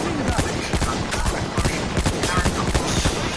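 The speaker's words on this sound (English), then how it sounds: "Enemy machine gun." Rapid bursts of enemy machine-gun fire in the Battlefield 1 video game, dense rattling shots and impacts packed closely together, loud and continuous through the short stretch with no clear talk over them.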